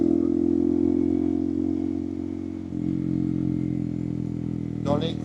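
A Honda Monkey 125 motorcycle engine drones steadily as it rides uphill, its pitch shifting slightly as it pulls along, with a brief clatter near the end.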